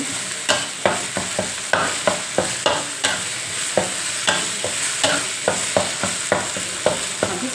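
Red curry paste stir-fried in a pan for a grilled stingray dish, with a spatula scraping and clacking in a steady rhythm over a continuous close sizzle.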